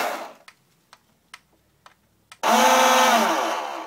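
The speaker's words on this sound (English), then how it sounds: "So both rotors are turning." Remote control boat with twin rotors spun up out of the water: a few faint ticks, then a sudden steady high-pitched motor whine that starts abruptly and holds loud to the end.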